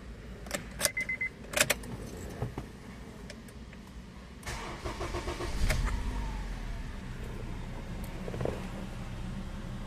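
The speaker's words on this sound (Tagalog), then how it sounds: "start ko na itong makina." A Honda CR-V engine cranks and catches inside the car, following a few sharp key and door clicks, then settles into a steady low idle hum that stays loud and close to the end.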